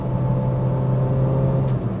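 A car running on Shell Helix Protect 0W30 engine oil drives along, a steady close engine drone with a low hum that holds level and then dips slightly near the end, with no talk over it.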